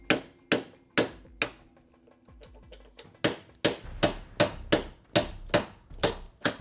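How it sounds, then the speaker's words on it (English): Sharp metal hammer blows knock against a small flathead chisel, knocking off a weld on an old car, at first spaced out and then settling into a steady, loud rhythm of about a dozen strikes close by. "the little flathead and the hammer is putting in work"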